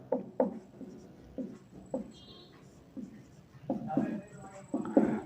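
A class 10 maths answer is handwritten with pen on paper, producing soft intermittent scratching strokes in irregular bursts under a person talking.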